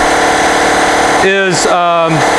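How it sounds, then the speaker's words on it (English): An air compressor for an EVAP smoke leak tester starts up with a rising whine, running loud and close over a steady engine-like drone; someone talks over it. "That's the compressor kicking in."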